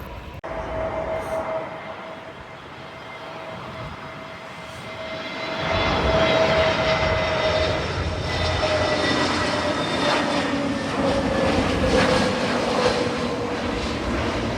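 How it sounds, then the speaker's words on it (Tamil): A loud, steady jet roar fills the air near Heathrow Airport, London, swelling midway as another aircraft passes overhead, with no voices. "இந்த பாருங்க ஒரு ஃப்ளைட் போகுது, அப்படியே பின்னால் 2 ஃப்ளைட் வருது."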